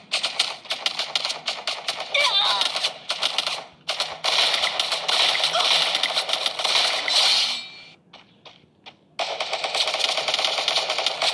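Rapid bursts of gunfire from the Free Fire battle royale video game, dense crackling volleys repeating close and loud with brief pauses between salvos.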